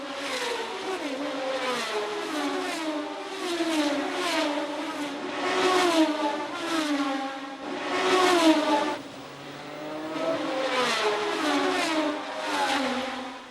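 Engines of 1971 Formula 1 cars wail through the streets of Monaco, rising and falling in pitch as they pass in waves and sweep downhill into the hairpin, sustained and strong.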